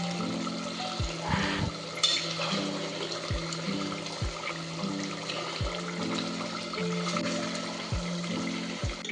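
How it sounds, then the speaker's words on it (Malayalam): Beef cooks uncovered in a pot on high flame as its liquid reduces, a steady low bubbling simmer with faint periodic ticks, alone and without talk. "ഇതിനി തുറന്ന് വെച്ചിട്ട് ഹൈ ഫ്ലെയിമിലിട്ട് വെള്ളം നല്ലോണം വറ്റിച്ചെടുക്കുക."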